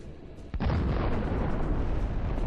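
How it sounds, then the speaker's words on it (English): A Russian tank blows apart in a massive detonation after a precision drone strike, a single loud boom at about half a second followed by a sustained roaring rumble of debris and fire. "A precision drone hit causes a massive detonation."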